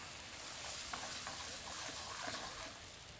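Diced tomatoes cooking down with onions in a pan at an outdoor garlic festival cooking demonstration, a dense continuous sizzle with faint stirring, steady and close throughout.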